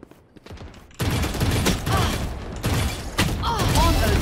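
Rapid gunfire in a shooter video game: quiet clicks, then from about one second a loud, continuous fusillade of close shots with brief gaps, while people talk over it.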